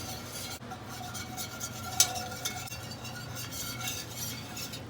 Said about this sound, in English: So we're just going to stir it until the flour gets cooked out.